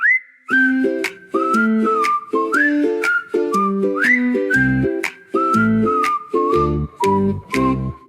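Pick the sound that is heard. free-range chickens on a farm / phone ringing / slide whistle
slide whistle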